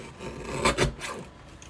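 Paper Christmas card trimmed with a couple of quick scraping cuts, close and soft, two brief rasps near the middle over quiet room noise.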